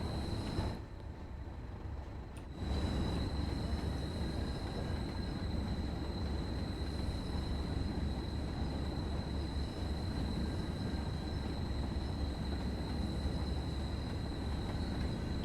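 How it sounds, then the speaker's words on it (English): Steady rumbling train noise with a thin, sustained high-pitched squeal of wheel flanges grinding on rails throughout, from the video game Train Sim World 2 on the West Cornwall Local route, with no talking. "I think that's the squealing flanges."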